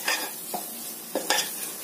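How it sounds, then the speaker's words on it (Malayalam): Spices and salt being stirred into paneer curry in a pan, a soft sizzle broken by a few quick scraping strokes of a spoon, close and fairly quiet, no talking. "ചേർത്ത് നന്നായി നമുക്കൊന്ന് മിക്സ് ചെയ്യാം."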